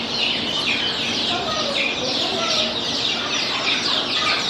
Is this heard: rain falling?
no